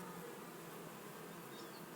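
Bees buzz steadily in a video game, a dense, continuous droning hum with no voices over it.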